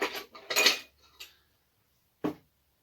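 A metal teaspoon scoops Epsom salts into a sugar wash: a few quick clinks and scrapes close by, a pause, then one more short clink on its own.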